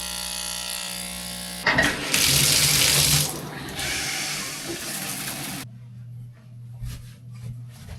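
A shower running indoors, water hissing steadily and loudly, with a louder splashing burst in the middle before the flow quiets to a softer patter.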